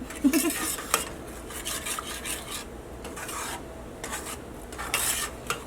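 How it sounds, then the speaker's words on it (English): A spoon scrapes and rubs against a pot while butter, milk and unsweetened cocoa powder are stirred over medium heat, in steady continuous strokes with occasional louder clinks against the metal. "Gotta stir, stir, stir, stir."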